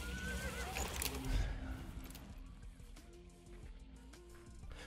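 A horse in the game Hunt: Showdown whinnies over clip-clopping hooves, the neigh rising early and fading under a steady bed of ambient game noise, with faint voices in the background.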